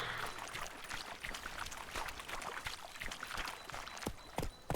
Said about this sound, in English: I like the sound of the water too. It's kind of peaceful.